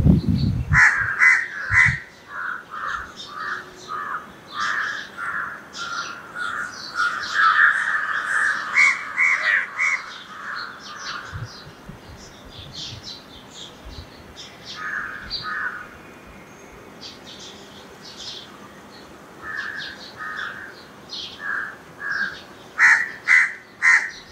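A crow tangled in kite thread caws repeatedly in harsh, insistent bursts, close and loud, with pauses between calls and some quieter background birds.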